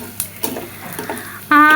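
Onions frying in a pan are stirred with a few scraping knocks over a low sizzle. A brief loud tonal sound cuts in at the very end.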